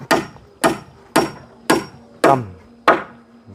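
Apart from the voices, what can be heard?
hammering nails into wood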